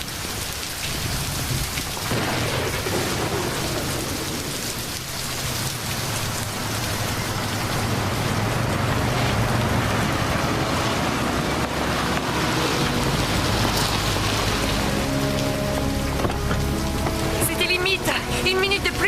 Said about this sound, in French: Je vous préviens, cette tempête s'intensifie.